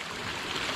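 Spring water pours off rocks at Benang Kelambu waterfall in Rinjani Geopark, a steady, close, full rush of flowing water with no pauses and no voices.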